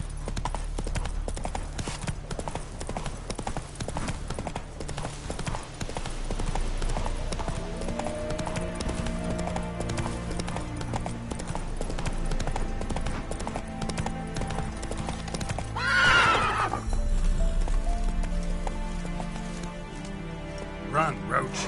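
Horse hooves clip-clop steadily in the video game The Witcher 3 while the horse gallops, with a brief whinny midway, layered over game music and rain-like patter.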